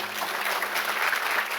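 Audience applause at a church sermon, a steady dense wash of clapping from a congregation, continuous and fairly loud throughout.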